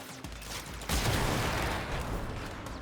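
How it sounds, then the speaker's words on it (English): Ferox, a single-shot video game weapon, fires a giant explosion: a sharp burst opens into a loud, dense roar that fades slowly, following brief mechanical clicks, with no speech. "Alright, so the Ferox is this single shot. It shoots a giant explosion."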